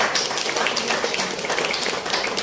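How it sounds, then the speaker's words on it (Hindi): An audience at a live arts performance event bursts into dense, continuous applause, many hands clapping at once in a fairly loud, even wash of sound for the whole stretch. "ऐसे कृतित्व, ऐसे व्यक्तित्व के लिए एक बार फिर से जोरदार ताली"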